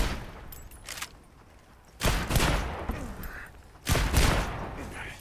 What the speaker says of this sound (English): fire off a whole bunch of my chain gun